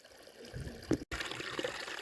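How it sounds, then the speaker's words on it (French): A river flows in the hills near Barbentane, giving a brief, soft trickling murmur of water with a short gap in the middle. "Et je découvre une rivière."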